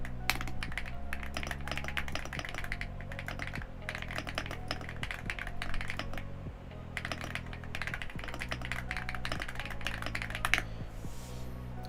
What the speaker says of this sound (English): Doesn't my keyboard sound kind of sick, though? I love the sound of my keyboard.